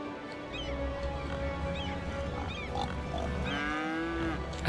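Cows moo in the city-building game Cities: Skylines, several drawn-out calls at moderate distance over a steady background hum, with faint bird-like honks mixed in.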